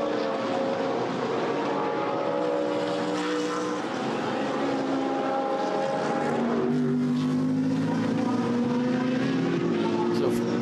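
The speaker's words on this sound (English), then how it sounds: "Nicky Katzberg on board to get ahead of the BMW up the hill into turn 5." Racing cars at the 2013 Blancpain Endurance Series 1000 km race at the Nürburgring, a BMW among them, climbing uphill into turn 5; steady engine roar continues throughout beneath a race commentator talking.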